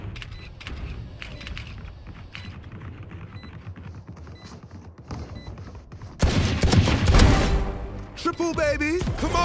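Sheriff pistol shots in a Spike Rush video game match crack sharply in quick bursts over game noise. A louder burst of action follows, and a voice is heard at the end.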